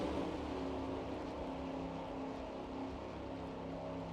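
Race cars accelerate away at the green flag start of the 1991 Miller Genuine Draft 400 at Michigan International Speedway in the NR2003 racing game, a dense, continuous engine roar with no talk.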